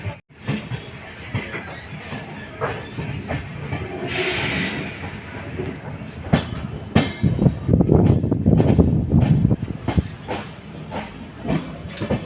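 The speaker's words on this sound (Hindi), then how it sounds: "हमारी ट्रेन अभी बचपरा स्टेशन को स्किप कर रही है" Janhit Express train on the Patliputra to Begusarai line running through Bachpara station without stopping: a steady rumbling ride with hissing, swelling into a louder, dense clattering roar in the second half.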